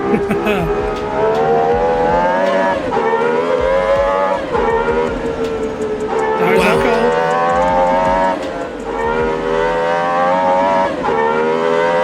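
Lexus LFA V10 engine in a modded racing video game, a loud continuous wail rising and falling through repeated revs and gear shifts, with a voice talking over it throughout.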